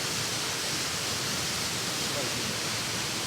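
Gul Salari waterfall at Eldama Ravine in Baringo County pours with an even, dense hiss of cascading water, heard close and unbroken throughout.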